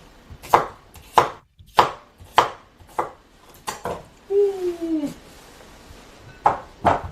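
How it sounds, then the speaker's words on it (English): Large potatoes are chopped on a cutting board for potato leek soup, with about ten crisp, close knife thuds in a steady rhythm. A short tonal squeak sounds partway through. "I'm just chopping them up."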